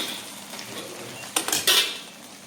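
Veg Manchurian balls are tossed into a pan for a street-style dish, giving a short metallic clatter of a few knocks close by against a steady background hiss.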